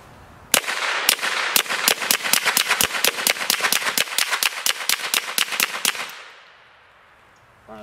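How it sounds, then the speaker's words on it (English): Rapid string of about twenty sharp shots fired at Innocent Armor bulletproof vest panels, loud and close in a fast, steady rhythm for several seconds before stopping abruptly. "We're shooting today the Innocent Armor panels."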